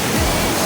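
Bulac Falls pours in a steady, dense roar of rushing water, loud and close, with no voices.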